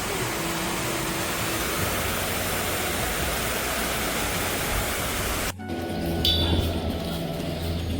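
A waterfall in the Dolomites of Italy gives a steady, dense rushing roar for about five seconds, then cuts abruptly to a quieter outdoor hush with faint scattered sounds.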